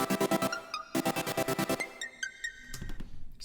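Future bass chords in quick rhythmic stabs, with extra chord notes filling the gap between kick and snare, bright and dense, then a few sustained tones, moderately quiet with no voices.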